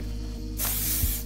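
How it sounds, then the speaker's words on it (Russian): Aerosol treatment sprayed onto sneakers, covering mesh and laces from at least 20 cm away: one steady, close hiss starts partway through and runs to the end. "Близко не распыляем, так как может оставить белые пятна."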